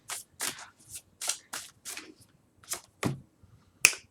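Tarot cards being shuffled for a reading: about ten short, crisp slaps and flicks in an uneven rhythm, close and clear against near silence, with no talking.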